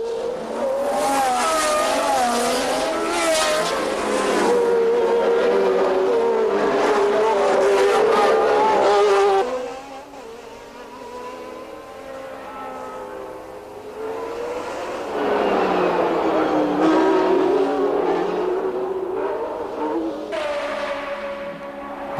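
1981 Formula 1 race cars howl past at high revs, loud and near, several engine notes rising and falling as the cars pass, with a short quieter dip before the roar builds again.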